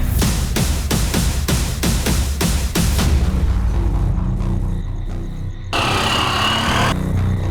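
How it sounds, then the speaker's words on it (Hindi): A rapid series of sharp cracking gunshots rings out, about a dozen sharp reports in quick succession, followed by rumbling and a burst of noisy static. "ये तो गोली चलने की आवाज है।"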